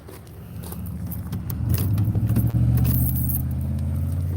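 A car engine rumbles at a roadside stop sign, swelling louder and then settling into a steady low idle nearby, with keys jangling close by in the foreground.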